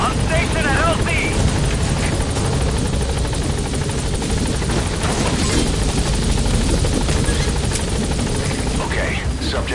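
An enemy helicopter in the Metal Gear Solid V video game churns loudly and continuously, its dense rotor thrum mixed with gunfire and game radio chatter in the background.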